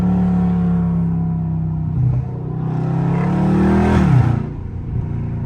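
A Dodge SRT in Track Mode downshifts, its engine droning loud and steady before climbing in a sharp rev burst and dropping back to a rumbling idle.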